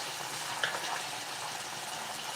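Broccoli sizzles steadily in a hot pan, a dense continuous hiss and crackle with a brief pop near the start and no voices over it.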